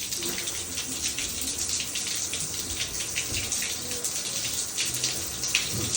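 Water pours from a newly fitted overhead shower rose in a renovated bathroom, a loud, steady hiss of spray that runs without a break from start to finish.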